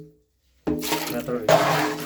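After a brief near-silence, water is scooped from an aquarium tank holding a little water and some soil: a splashy, sloshing rush that starts abruptly and swells again near the end.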